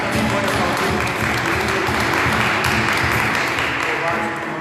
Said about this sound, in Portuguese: Você que está aqui também pode aplaudir